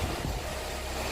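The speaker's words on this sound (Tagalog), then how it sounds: "lakas po ng hangin" Strong wind buffets the microphone with a constant low roar throughout.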